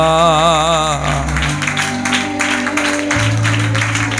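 A worship congregation claps hands in a steady rhythmic pulse under loud amplified music, with a sustained voice or keyboard tone at the start.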